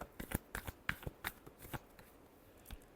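Tarot cards being shuffled by hand in a quick series of crisp riffling slaps and flutters, close and fairly quiet, with no talking.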